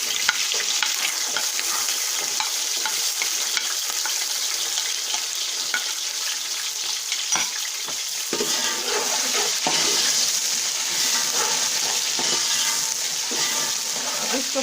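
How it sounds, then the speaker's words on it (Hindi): Chopped onions sizzle loudly in a pan of oil with roasted cumin seeds while cooking aloo matar pulao, a continuous close frying hiss with occasional stirring scrapes. "अब हम प्याज डालेंगे।"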